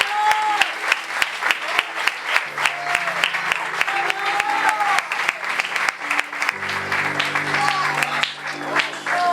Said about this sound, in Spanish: Denle un fuerte aplauso al Rey que vive